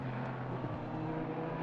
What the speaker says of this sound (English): The engine sound is drowning you out when you're on board, Paulie.